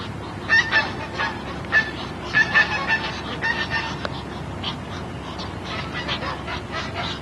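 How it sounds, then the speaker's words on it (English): Ducks call in a Louisiana nature setting, with several short nasal honking quacks in an irregular burst over the first few seconds, then quieter scattered calls over steady outdoor background noise. "This is definitely a duck."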